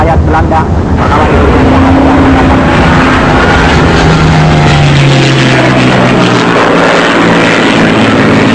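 German WWII bomber aircraft in archive footage of the invasion of the Netherlands, a loud continuous droning engine roar with a falling pitch as the planes pass, under narration.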